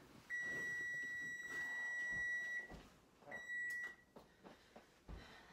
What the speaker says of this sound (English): Oh, there's our timer.